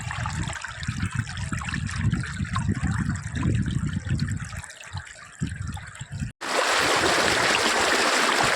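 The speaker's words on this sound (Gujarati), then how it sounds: "થોડી મોટી નદી છે" River water at Fofer Dam rushes and splashes nearby in a steady, churning flow, with a brief cut near the end after which a brighter, louder wash of water continues.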